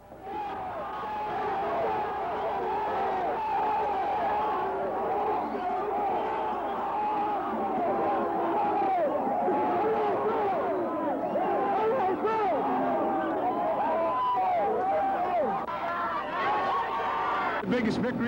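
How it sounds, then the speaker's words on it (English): Fans waiting at Metro Airport to greet the Michigan football team make a steady crowd din of cheers and overlapping shouting voices. It holds at an even level throughout, with no single voice standing out. "When they landed at Metro Airport, there were the fans again, waiting to cheer their heroes"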